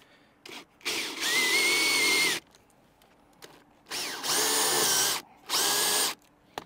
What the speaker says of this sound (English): So I'm going to drill these holes.